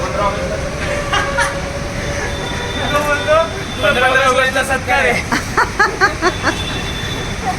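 A train pulls into a station near Mumbai with rumbling wheels and high metallic squeals, while people talk and a crowd murmurs nearby.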